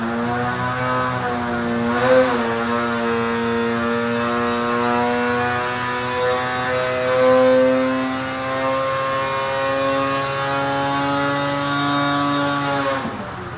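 A Polaris 850 Axys snowmobile engine fitted with a Stage 2 kit revs up and holds high RPM, a loud, sustained buzzing whine with rising pitch that drops off near the end, with no talk over it.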